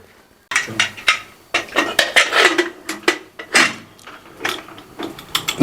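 A metal lid clanks and scrapes onto a pot of masoor lentils with onion and green chillies, a series of sharp close metallic knocks and rattles in quick succession, with no speech over them.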